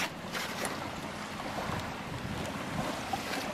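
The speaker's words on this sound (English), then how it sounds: "the wind's dropping" Steady wind rushes past a PVC-rotor vertical-axis wind turbine outdoors as the breeze drops, a continuous broadband whoosh with faint buffeting and no voices.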